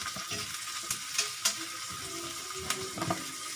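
Green chili pieces sizzle and crackle in hot oil in a pan, a steady close frying hiss broken by a few sharp pops and soft stirring scrapes.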